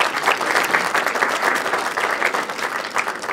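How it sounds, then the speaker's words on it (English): Loud, dense applause from a tourism conference audience as a guest is called up to the stage, steady clapping that fills the room for several seconds with no one speaking over it. "Give me a round of applause."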